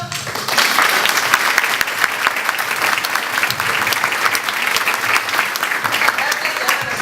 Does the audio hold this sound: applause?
yes